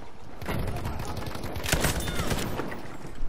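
A Type 11 LMG fires in the World War II shooter Battlefield V as a steady, rapid stream of loud, close shots over a dense battlefield din.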